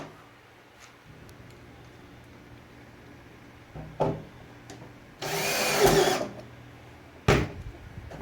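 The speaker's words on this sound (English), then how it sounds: "There's two other holes that we recommend you do put screws in." Power drill driving screws into a Cobra rack hard mount, one main buzzing burst of about two seconds plus a few short clicks and knocks against a quiet background.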